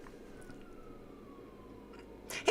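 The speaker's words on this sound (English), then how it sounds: "Sirens." A faint, distant siren wails in a slowly falling tone over quiet background noise, ending with a brief louder rustle.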